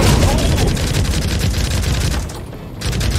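Continuous heavy gunfire in the Pavlov VR shooter, loud and sustained automatic fire with booming low rumble throughout, briefly easing before resuming, with shouting voices mixed into the battle.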